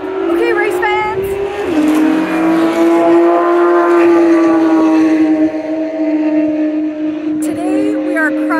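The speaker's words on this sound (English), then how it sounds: "We are driving the historic Watkins Glen racetrack today." A car circles the Watkins Glen Grand Prix circuit behind a pace vehicle, its engine holding a loud, steady drone that shifts pitch as it changes gear.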